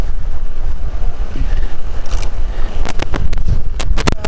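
Strong wind buffets the microphone throughout an adventure motorcycle ride on a remote trail, a constant loud low rumble broken by sharp gusty crackles toward the end.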